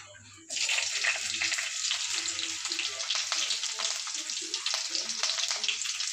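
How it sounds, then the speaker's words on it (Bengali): Cumin and green chilli sizzle in hot oil in a pan, a sudden loud frying hiss that breaks in after a brief quiet start and then crackles steadily close up. "জিরিটা গরম হয়ে গেছে ভাজা হয়ে গেছে লঙ্কা দিয়ে দেবো"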